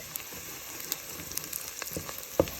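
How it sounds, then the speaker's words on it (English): Onions and minced garlic sauté quietly in a pan over medium heat, a faint sizzle broken by scattered small pops and crackles, with one sharper tap near the end. "You want to cook the onions and the garlic together for about another couple of minutes"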